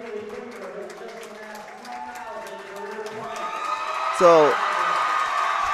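Basketball crowd at a girls' high school game between Harrisonville and Pleasant Hill cheers and whoops for a player's 1,000th career point, a loud surge near the end of a steady roar with a voice talking over it.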